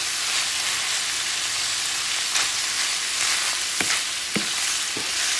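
Chorizo sausage and potatoes fry in a pan with onions, a steady close hiss of sizzling oil filling the whole span, broken by a few sharp spatter pops and scraping stirs near the end.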